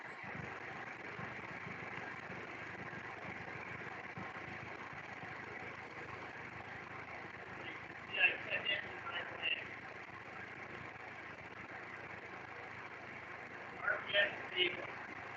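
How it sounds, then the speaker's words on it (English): A car engine idles quietly at a steady low hum during a MAP sensor lesson, with a few short louder bursts near the end over the constant drone. "So it's idling."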